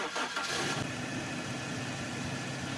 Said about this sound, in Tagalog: start mo muna itong makina.